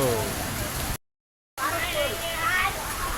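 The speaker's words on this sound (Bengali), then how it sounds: "বৃষ্টি বৃষ্টি" Dense, even hiss of rain falling on surfaces, interrupted by a brief silent gap, with faint voices mixed in.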